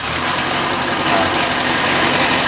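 A 2018 Suzuki Carry Futura pickup engine runs at a steady, loud idle close by, with an even mechanical rumble and hiss and no clear pauses.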